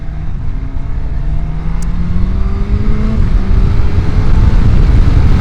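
Suzuki GSX-S1000GX four-cylinder motorcycle engine from 2024 pulling steadily while riding, with a loud, smooth, rising engine tone under heavy wind rush and no talking.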